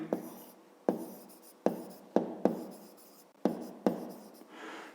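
Numbers written by hand for a fifth-grade math exercise, heard as sharp pen taps and short scratching strokes on paper, close up, several separate marks with brief pauses between them.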